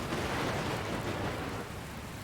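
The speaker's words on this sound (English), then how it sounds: "Where did this rain come from?" Steady, dense rainstorm from the video game Dragon Quest Builders 2, with a low thunder rumble under the downpour; a loud, continuous hiss with no voices.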